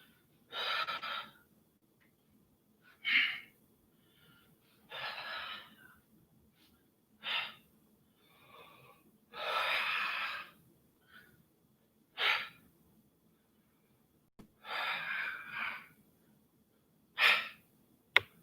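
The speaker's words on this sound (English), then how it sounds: "If you can hear me breathing, try to follow along with my breathing." Heavy, rhythmic breathing during a bodyweight ab exercise, with a series of loud, close exhales and gasps in regular bursts separated by short quiet gaps.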